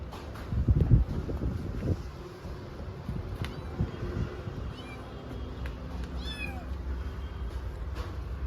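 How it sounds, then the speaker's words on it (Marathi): A small cat meows outdoors, with several short, fairly faint calls spread across the clip against a background of gusty wind noise. "छान अशी क्यूट छोटी मांजर आली आपल्याकडे"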